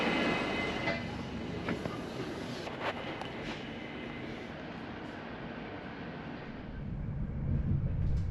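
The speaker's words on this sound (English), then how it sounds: "As Leiden is to the south, the train will exit westbound, and then at the approach junction will turn southbound." A Dutch NS double-deck train running on the line near Leiden: a steady, rushing rumble of wheels and motion that eases slightly midway, then swells louder again toward the end.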